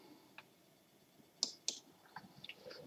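A computer mouse clicks in PDFShaper software, two crisp close clicks followed by a few fainter taps, sparse against a quiet background.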